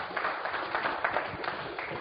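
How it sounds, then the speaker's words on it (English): Audience applauding panelists after a TV and programmatic video panel discussion at Rubicon Project, a dense, steady patter of many hands clapping at moderate loudness for a couple of seconds. "Give them a big applause."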